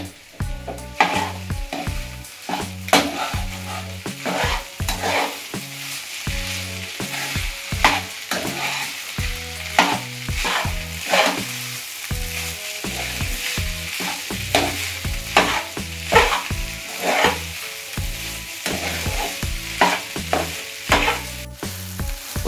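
Rice with chili powder is stirred in a hot pan, giving repeated scraping strokes of a spoon against the metal over a steady frying sizzle, close and continuous with no talking.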